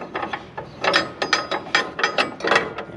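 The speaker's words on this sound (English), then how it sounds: "Loosen this jockey wheel clamp like so." A caravan jockey wheel clamp is loosened, giving a close series of rapid ratcheting clicks that speed up into a regular rhythm over a few seconds.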